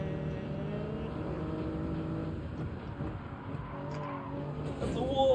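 A person vocally imitates car engine and racing sounds while playing Gran Turismo 7, a continuous buzzing, revving drone at moderate level that rises slightly toward the end.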